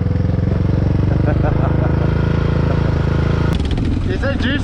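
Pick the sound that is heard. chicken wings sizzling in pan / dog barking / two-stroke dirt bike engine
two-stroke dirt bike engine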